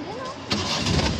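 A Suzuki Mehran car engine cranks and catches about halfway through, turning into a steady close idle, with someone talking over the start.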